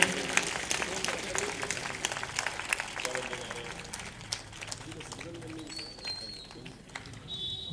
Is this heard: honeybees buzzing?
no